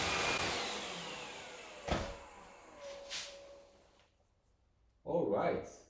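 An AEG CX7-1-30EB stick vacuum cleaner runs with a steady, loud suction roar that fades away over a few seconds, followed by a brief voice speaking nearby.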